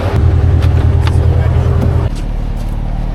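A Porsche Panamera drives along with a steady, loud low engine and road drone that drops off abruptly partway through, leaving quieter rumble with faint voices.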